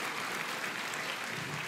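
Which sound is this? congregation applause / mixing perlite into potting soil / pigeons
congregation applause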